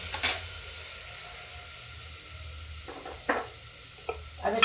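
Spices going into mixed vegetables frying in a pan over low gas, a faint steady sizzle punctuated by a few brief scraping and clinking strokes of a spoon against the pan.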